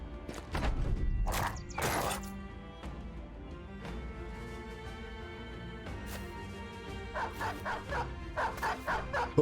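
Dogs in the video game Battle Brothers give a few close, loud barks and yips early on, then quieter whimpering and repeated short yelps toward the end over a low musical background.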